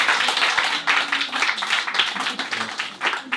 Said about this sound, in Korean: 우리 주락학생들에게 감사의 박수를 드립니다.